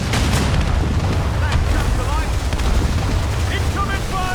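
Naval cannon fire in Assassin's Creed Rogue at sea, a dense rumbling barrage of booms layered over wind and water noise, continuous and loud throughout with no clear gaps between blasts.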